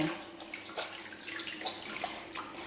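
Makeup sponges are washed one at a time in water, giving soft close sloshing and squishing with small splashes and drips in an uneven rhythm. Nobody speaks.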